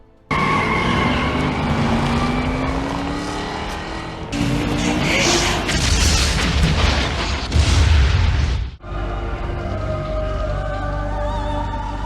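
A hot rod flies off a dock and bursts into a midair fireball in the film The Crow: loud, layered roaring blasts build over several seconds, then cut to a quieter rumbling tail.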